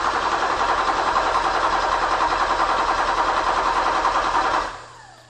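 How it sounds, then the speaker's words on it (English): A Porsche 911 engine cranking on the starter, a steady, fast, buzzing whir that holds even and loud for several seconds before cutting off and fading away, with no talking. "We'll crank for a second and watch the timing light."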